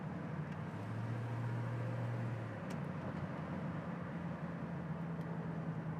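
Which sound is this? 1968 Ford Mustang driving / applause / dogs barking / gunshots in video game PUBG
1968 Ford Mustang driving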